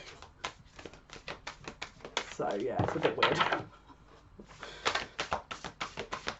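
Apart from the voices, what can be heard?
shuffling large tarot cards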